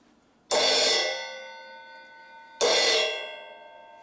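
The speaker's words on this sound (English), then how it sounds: "A choke is when you crash and grab it." A crash cymbal on a drum kit struck and then grabbed to choke it, two loud bright shimmering hits about two seconds apart, each cut short instead of ringing out, with no talk.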